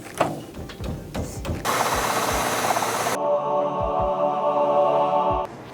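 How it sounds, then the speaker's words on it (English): A power drill whirs steadily for several seconds drilling a bowling ball, after some clunking handling noises, then winds down and stops. "I'm drilling the ball and I'm finding out."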